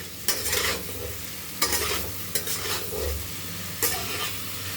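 Paneer and vegetables stir-fried for a pizza topping, a steady close sizzle broken by four scraping stirs of the pan at roughly even intervals, with no voices.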